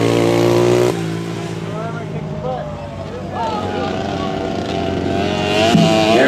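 Yamaha 250 motorcycles race at a flat track event, their engines roaring loud and close. Revs climb and fall as the bikes pass through the laps, and a voice speaks over the roar.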